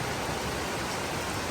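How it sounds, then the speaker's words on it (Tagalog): Heavy rain pours down during Typhoon Basyang over a flooded farm, a steady, loud, continuous hiss with no talking. "lakas ang ulan"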